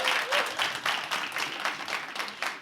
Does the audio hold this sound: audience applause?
yes